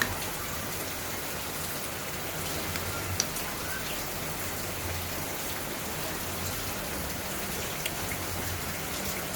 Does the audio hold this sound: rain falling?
yes